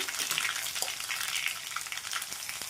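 Mustard seeds and cumin fry in hot oil with a continuous bright sizzle and scattered pops and crackles as the seeds splutter, close and steady.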